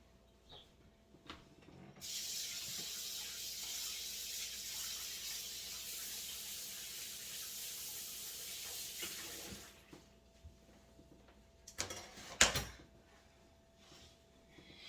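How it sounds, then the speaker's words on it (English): A kitchen tap runs steadily for several seconds while hands are washed beneath it, then shuts off, followed by soft rubbing and a few clattering knocks close by. "Let me wash my hands again."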